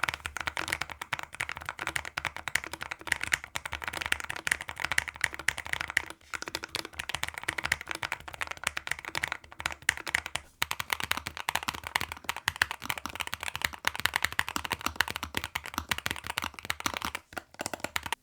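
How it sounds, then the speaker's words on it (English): Akko Air 01 mechanical keyboard typed on steadily, a dense run of close, crisp keystroke clicks with no pauses for about eighteen seconds and no voices. "Here's a quick sound test, and I've also included some others for quick comparison."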